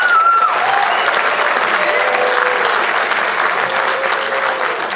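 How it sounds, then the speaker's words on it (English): An audience at a school Christmas concert claps steadily, a dense and loud round of applause filling the room with a few brief cheers or whoops mixed in. "Give another round of applause."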